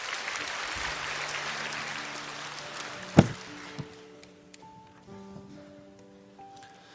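A church congregation applauds, a broad wash of clapping that fades out after a few seconds, with a sharp thump partway through and a sustained organ-like tone beneath.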